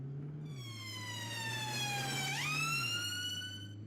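A police siren from the video game Flashing Lights wails steadily, its pitch dropping and then sliding back up in a smooth sweep, loud and close with a constant low engine hum beneath.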